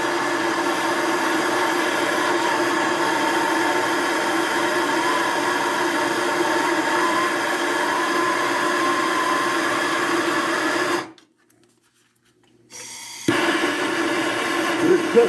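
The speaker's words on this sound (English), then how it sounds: "Let's see if we can get some torch heat up in there." A torch flame heating a seized bolt on a Triumph Spitfire, a loud steady roaring hiss that runs unbroken, cuts out abruptly to near silence for about two seconds, then resumes.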